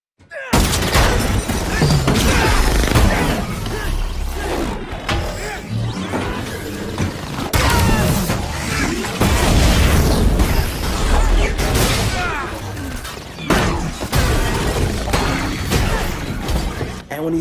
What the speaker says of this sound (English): When he closes his eyes and destroys those drones on the bridge.